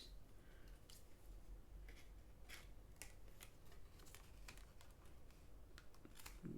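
Scissors snip through paper lace tape in a series of quick, crisp cuts, the sharp clicks scattered over a low steady background hum with no voices.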